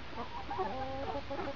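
Chickens cluck in a chicken yard near biochar cone pits, several birds overlapping in a busy, fairly faint chorus of short clucks and warbling calls, with no talk.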